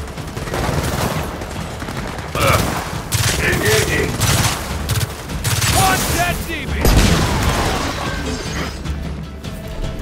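A Gears of War 4 firefight with blasts from a point-blank shotgun, loud bursts and crashing impacts repeating irregularly among other gunfire, while a player talks over the action.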